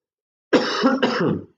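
A single close, loud throat-clearing cough, a rough harsh burst with a brief second push, heard alone.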